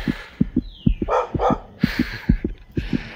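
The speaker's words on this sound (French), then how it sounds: "maintenant c'est les chiens, bordel" Dogs bark close by outdoors in a quick, rhythmic run of about a dozen loud, sharp barks, with a brief whistling sweep and noisy bursts between them.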